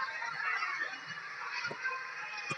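Ducks wandering off the field at the cricket ground in Bellerive as drizzle sets in, giving honking, quacking calls over a steady, hissing outdoor wash.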